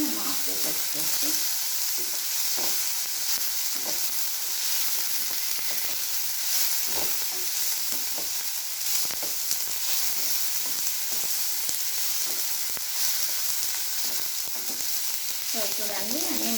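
Tomatoes for ginger chutney sizzle steadily in a pan, a continuous hissing fry broken by frequent scraping stir clicks, close and loud, with a brief voice near the end.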